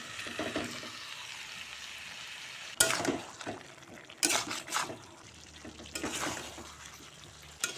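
Fried potatoes tipped into a pan of spiced chicken curry and stirred, soft sizzling broken by a few sharp scraping and clattering strokes, close and moderately loud, with no voices.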